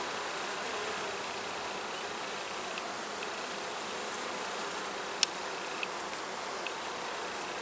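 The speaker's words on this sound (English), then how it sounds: "Look at the number of bees in this hive." Honeybees buzz steadily in an opened hive during a backyard inspection, a dense, continuous drone close by with no talk over it.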